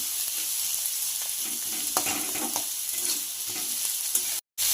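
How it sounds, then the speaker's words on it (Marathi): Onion sautéing over high heat in a pan for Maharashtrian methi bhaji, giving a steady loud sizzle with a few scrapes of stirring, then a brief cut to silence near the end. "जरा कांदा परतवून घेते. लाल होऊन द्यायचं जरा."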